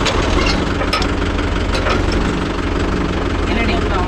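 A Mahindra Yuvo Tech Plus 585 4WD tractor engine runs steadily at close range with a loud, constant low diesel rumble, heading out to a rotavator in a field.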